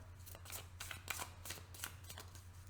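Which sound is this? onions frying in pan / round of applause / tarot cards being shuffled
tarot cards being shuffled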